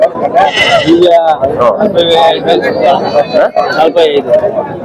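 Sheep and lambs bleat repeatedly at a large, busy weekly sheep and goat market, their calls overlapping with nearby crowd chatter and voices.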